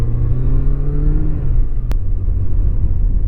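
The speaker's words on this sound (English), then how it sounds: "I'm getting very weird throttle response" A Kawasaki ZZR 1100 motorcycle engine revs and then falls back, its tone sliding down unevenly as the throttle response turns erratic, loud and close, with a low rumble carrying through to the end.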